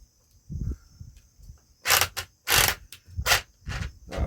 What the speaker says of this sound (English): them gears sound rough, don't they, guys?